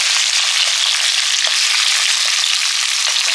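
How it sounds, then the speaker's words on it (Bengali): Fish frying in hot oil in a kadai, a steady, dense sizzle with small crackles and pops scattered throughout, close and loud, no voices. "মাছটা ভাজা হচ্ছে ওদিকে"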